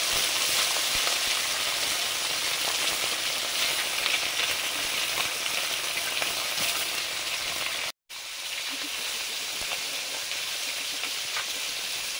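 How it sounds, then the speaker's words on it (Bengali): Fish coated in salt and turmeric sizzles steadily in hot oil, a dense, continuous frying hiss that holds throughout with one brief dropout near the end. "মাছ ভাজবো, নুন হলুদ মাখাচ্ছি।"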